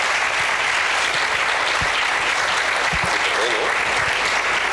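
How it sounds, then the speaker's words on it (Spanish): Dense, steady applause from an audience at the closing ceremony of a 2023 school science fair, honoring the organizers, loud and continuous throughout with no gaps. "el primer aplauso que se dé sea para los compañeros que han organizado esta pedazo de Feria de la Ciencia"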